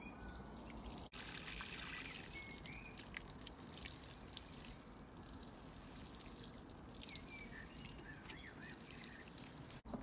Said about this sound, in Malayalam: ഇനി നമുക്കൊന്നും കൂടി വെള്ളം ഒഴിച്ച് കൊടുക്കണം കേട്ടോ